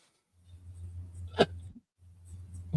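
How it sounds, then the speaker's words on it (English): A single sharp hiccup bursts out mid-clip, loud and close, over a low steady background hum, with a brief quiet gap afterward and another faint catch near the end. "I've got hiccups now."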